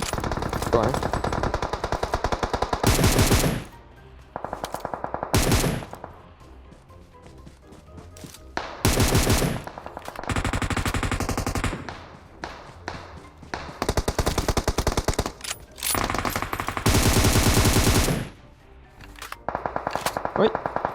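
Automatic gunfire in the mobile game PUBG Mobile comes in repeated loud bursts separated by quieter gaps, with players talking at times between the volleys.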